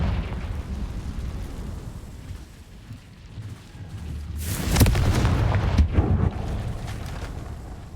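A Confringo fire-blast spell explodes in Hogwarts Legacy: low game rumble builds into one loud burst with a crackling tail, followed by lingering booming debris noise.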